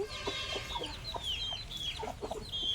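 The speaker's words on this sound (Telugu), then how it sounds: "తవుడు పుంజు అయితే ఇదిగోండి." A rooster clucks repeatedly up close, soft throaty calls in an uneven rhythm over a busy background of other birds.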